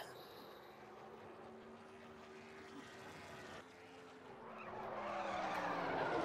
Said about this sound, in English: Seth Cole, the, the Bojangles Ford, car number 98